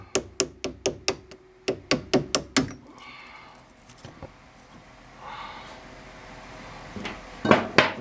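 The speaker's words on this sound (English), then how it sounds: "I'm gonna take the wooden dowel and see if I can't knock it out" A wooden dowel strikes repeatedly to drive out a sway bar bracket bushing on a Jeep Liberty, two quick series of sharp knocks in a steady rhythm, then quieter scraping and a couple more hits at the close.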